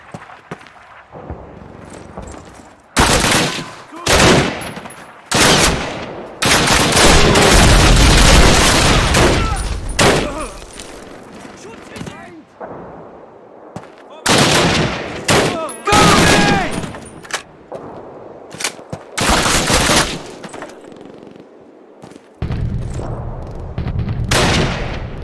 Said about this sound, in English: Martin, Elder, give me covering fire